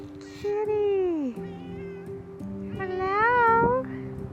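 A friendly cat meows twice up close, long rising and falling cries, while a soft melodic tone hums underneath, at a rural glamping property in Montana.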